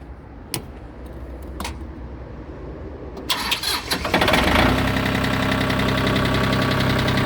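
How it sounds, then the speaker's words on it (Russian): A minitractor engine cranks with a few sharp clicks, catches with a rising roar and settles into a loud, steady, close idle with a continuous rattle. "Запустим трактор."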